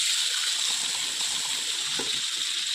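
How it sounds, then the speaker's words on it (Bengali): Water poured into a pot of taro stolons with prawns after the salt has gone in, giving a steady close splashing gush throughout this short moment, with no talking. "তারপর এর মধ্যে দিয়ে দেবো জল"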